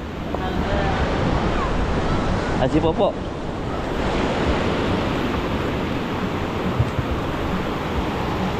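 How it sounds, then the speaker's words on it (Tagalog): Strong surf roars continuously with wind buffeting the microphone, and a person briefly speaks a few words partway through. "Malakas yung alon."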